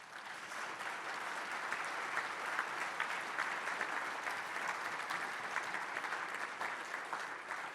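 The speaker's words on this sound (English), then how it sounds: "If we could give our panelists a round of applause." Steady audience applause for the panelists at a Nebraska Republican gubernatorial forum on agriculture and rural issues: dense, even clapping sustained for about eight seconds at moderate loudness, with no voices over it.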